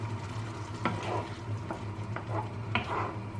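A spoon stirs sausage in sauce with thyme in a pan, making a few soft scraping strokes over a low, steady simmering sizzle, close and moderately quiet.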